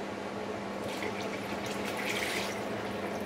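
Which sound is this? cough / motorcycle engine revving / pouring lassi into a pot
pouring lassi into a pot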